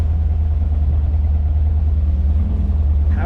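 A 1955 Ford Thunderbird with a 3-speed runs during a test drive, its engine giving a loud, steady low rumble throughout, near and continuous with no talk.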